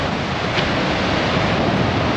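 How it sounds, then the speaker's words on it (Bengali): Sea surf rolling in at Gopalpur beside a resort's swimming pools, a steady broadband roar of ocean waves and wind at moderate level, continuous throughout with no voices. "সমুদ্রের গর্জন শোনা যাচ্ছে।"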